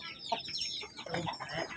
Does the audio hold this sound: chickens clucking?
yes